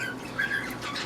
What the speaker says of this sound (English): You hear our birds in the background.